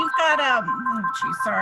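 A phone rings with a steady electronic tone during an online chamber of commerce meeting, sounding beneath a man's apologetic speech.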